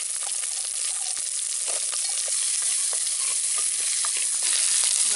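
Shallots and garlic sautéing in a pan for vatha kuzhambu: a continuous, close sizzle with scattered light scraping from stirring, and no voices.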